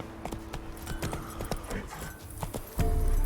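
Roach the horse galloping in Witcher 3, a quick steady clip-clop of hooves close by with faint jingling, ending in a louder rush of noise.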